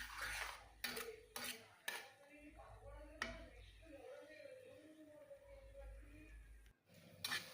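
A spoon stirs curry in a pan over a slow flame, making light metallic clinks and scrapes in an irregular rhythm, with a few sharper taps. A person talks quietly over the stirring.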